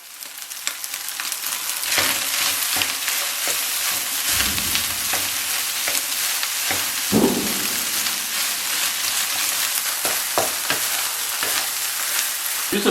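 Rice stir-frying in a hot pan for egg fried rice gives a steady loud sizzle, broken by repeated scraping, tossing strokes of the spatula, with no talking.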